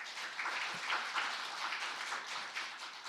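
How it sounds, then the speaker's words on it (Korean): Steady, dense applause from a seated audience at a public leadership forum in Sejong, a continuous wash of many hands clapping for several seconds at an even level. "큰 박수 부탁드리겠습니다."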